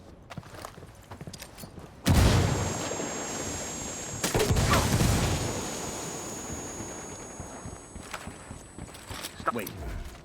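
A frag grenade in the shooter game Ghost Recon Wildlands goes off with a sudden loud blast about two seconds in, followed by a second heavy burst and a long rumbling tail, with a voice speaking briefly.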